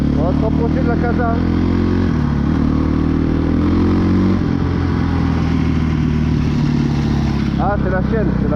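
A running Kawasaki KX450F motorcycle engine with a rattling chain, loud and close, the engine note shifting as it is revved, with a voice speaking over it.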